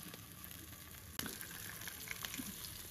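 Potatoes frying in a pan with spices, ginger garlic paste and salt, giving a steady faint sizzle with one sharp clack partway through, close but quiet, without talk.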